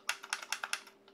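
Bracket keys on a computer keyboard pressed in quick succession while rotating a protractor line in a land-navigation map program: about nine crisp, light clicks in an uneven rhythm, close and fairly quiet, with no talk.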